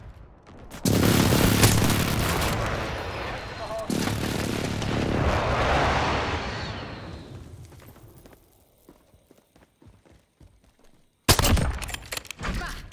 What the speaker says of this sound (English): Be advised, friendly position airstrike inbound.